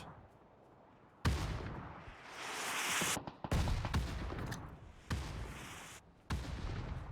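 Grenades and gunfire in a battle royale esports match: sharp bursts of explosions and rapid shots hit in several loud clusters separated by brief quiet gaps, with no voice heard.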